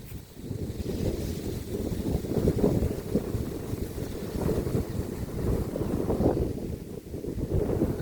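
Strong gusting wind roars and buffets the microphone during kite flying, a dense continuous low rumble that swells and eases without pause and has no talking over it.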